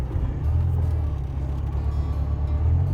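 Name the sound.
1974 Volkswagen Super Beetle engine running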